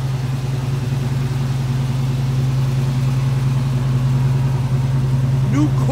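A 1969 Chevrolet Camaro with a 350 small-block V8 idles steadily nearby, a loud, constant low rumble that holds unchanged throughout.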